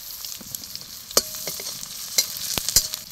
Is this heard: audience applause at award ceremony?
no